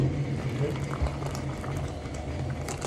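A Hoovermatic twin tub washing machine doing a hot boil wash gives off a steady, close, churning bubbling of boiling water that runs without a break throughout.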